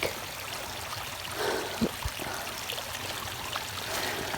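A creek flows and trickles steadily in a state park, a continuous rushing babble with a few small splashes, no voices.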